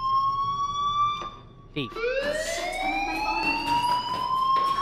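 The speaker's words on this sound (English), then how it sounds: "Hey, do you hear that fire alarm?" A school fire alarm in the video game Life is Strange sounds loudly, a sustained electronic tone rising in pitch after a brief break, continuing steadily under a short spoken line.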